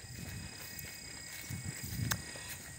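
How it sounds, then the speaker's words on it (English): Faint insects chirp softly in a quiet outdoor setting, a thin steady high buzz with a few brief clicks and low soft rustles. "listening to these bug sounds, it's really nice"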